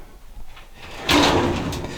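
A drawer or cupboard in an abandoned house slides open with one close, scraping rumble, then a brief rattle as it settles, in a quiet room.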